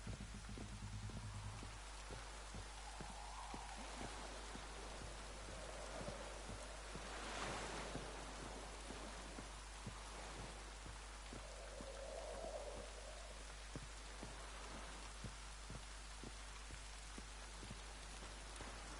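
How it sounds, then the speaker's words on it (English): Rainfall in The Witcher 3 Wild Hunt game, a quiet, even patter of drops hitting surfaces with a soft wash beneath, faint and continuous, with no talk. "Looks like rain."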